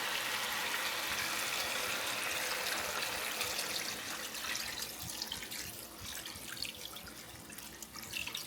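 Water pours into a pot of seasoned oxtail in a continuous close-up rush that softens and thins toward the end.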